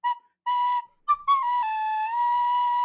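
A tin whistle plays a few short held notes, then a longer sustained tone that bends slightly, heard up close and alone without any voices.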